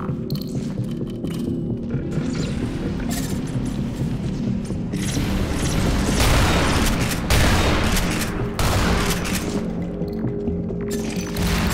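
Grenade explosions in the video game Entropy Zero 2, heavy booming blasts and rumbling throbbing that run over a continuous loud low drone, dense and rolling with bursts of crackle.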